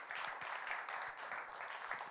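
Audience applause at a drummers' festival concert, a steady wash of many hands clapping throughout, fairly distant and even, with no clear talk over it.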